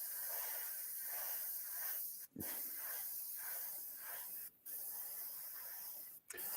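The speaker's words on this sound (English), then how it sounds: "so you don't have to keep listening to my compressor talking back to me." Airbrush compressor air hissing steadily at about 1.5 bar for a model-painting session, a loud continuous broadband hiss broken by three short pauses, no talking.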